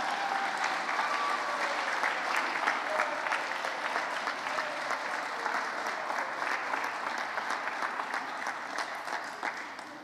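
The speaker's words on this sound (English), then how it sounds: "Can we give our students another round of applause?" A school audience applauds students at a state teacher-of-the-year ceremony, a broad, sustained wash of many hands clapping that stays loud and even for about ten seconds before easing off slightly at the end.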